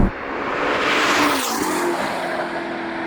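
A 1109hp Novitec-tuned Ferrari SF90 Spider hybrid supercar with all-wheel drive accelerates hard nearby, its loud, dense engine roar rising and shifting in pitch over about three seconds, with a faint tire squeal.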